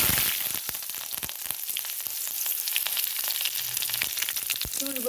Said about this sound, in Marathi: मोहरी तडतडून आली ना की थोडंसं जिरं हातामध्ये क्रॅश करून घेतले जिरं घालणार आहे